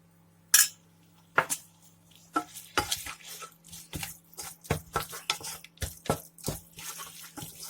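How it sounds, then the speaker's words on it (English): A spoon stirs tamarind paste into fish curry in a metal pot, giving a steady series of clinks and wet scrapes repeating roughly every half second against a faint background hum. "I'm going to mix it properly."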